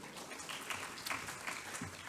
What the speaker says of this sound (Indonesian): Baik, tepuk tangan buat Bu Desi.